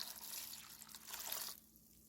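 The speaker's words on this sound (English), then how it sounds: "so we are going to add about 2 cups of water to our bowl." About two cups of water stream into a bowl for making Korean yeolmu water kimchi. A soft, steady pour with splashing lasts about one and a half seconds, then the water stops and only a faint trickle remains.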